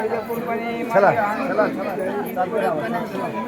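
A large crowd of pilgrims at the Pandharpur Wari, near a temple. Close, overlapping voices form a dense, continuous chatter with no pauses.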